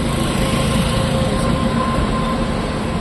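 A freight train passes nearby with a continuous heavy rumble and droning hum, steady and loud for the whole stretch.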